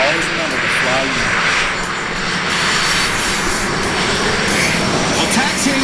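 Northrop F-5 jets taxiing at the MCAS Yuma airshow, a steady broad engine roar holding loud and constant throughout, with a faint voice underneath.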